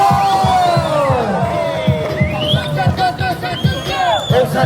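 A street-performance crowd in wintry New York City cheers and whoops loudly and continuously, with whistles and shouts rising over the steady roar of many voices.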